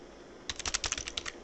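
A burst of fast typing on a computer keyboard, about a second of crisp, close key clicks that start abruptly after a quiet moment, with no talking.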